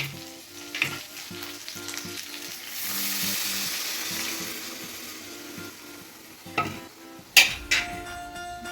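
Water poured into a hot pan of chicken chaap, setting off a loud hiss and sizzle that swells in the middle and fades, followed by a few sharp knocks of a utensil against the pan near the end.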